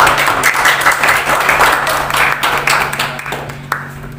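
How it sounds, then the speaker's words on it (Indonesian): Several people clap together in a steady burst of applause in a classroom lesson, lasting a few seconds, then thinning out and fading near the end. "Tepuk tangan."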